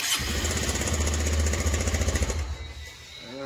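Bajaj Pulsar 220F motorcycle engine, under repair for a faulty self-start one-way clutch, fires up and runs with a loud, rapid chugging putter close by, then drops away to a quieter idle near the end.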